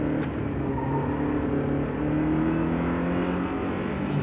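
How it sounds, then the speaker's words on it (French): A car accelerating hard through the gears on a downhill run toward a right-hand bend, a steady loud engine drone rising in pitch, heard from inside with no talk. "Je balance la voiture, j'accélère fort."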